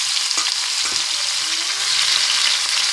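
Chicken pieces frying in hot mustard oil, a dense, loud, steady close-up crackle and sizzle with only faint low bumps, no one speaking.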